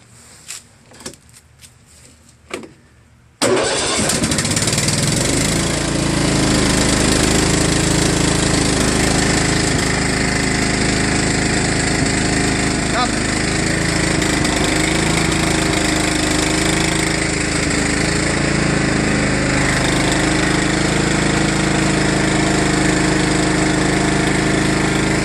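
A John Deere mower's Kohler engine is cranked and fires up after a few quick clicks and clunks, then runs as a loud, steady rumbling drone close by.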